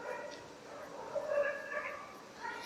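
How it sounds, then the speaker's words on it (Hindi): A short burst of dog barking, a couple of dogs yapping in quick succession at moderate distance. "यार ये खुरों में ये देखे कुत्ते कैसे भौंकने शुरू हो गए हैं"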